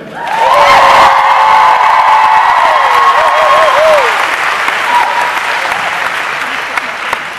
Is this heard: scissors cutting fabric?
no